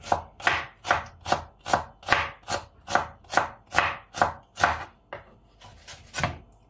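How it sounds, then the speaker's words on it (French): A knife slices an onion on a board in steady, even strokes, about a dozen crisp chops in a regular rhythm, close and clear with no talking. "L'oignon, ce qu'on va faire, on va l'émincer"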